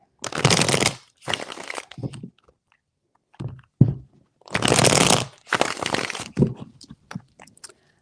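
Tarot cards shuffled by hand in several long riffling bursts, close and crisp, with short pauses and a few softer taps between rounds, no talking.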